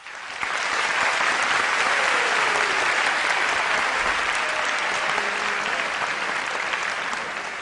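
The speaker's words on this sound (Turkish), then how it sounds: "bu çalışmanından dolayı kutluyor ve alkışlıyoruz" A studio audience at the Turkish talent show "Yetenek Sizsiniz" breaks into loud, sustained applause that swells quickly and holds steady for several seconds.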